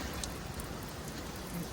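Outdoor shower spraying water, tested during spring cleanup after a winter that may have left pinholes in the pipes; a dense, continuous patter and hiss close by, with no talk.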